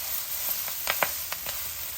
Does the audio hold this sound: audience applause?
no